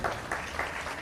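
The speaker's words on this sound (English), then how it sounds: "Round of applause, ladies and gentlemen." Brief burst of applause from a workshop audience, a dense patter of clapping heard at moderate distance for about a second.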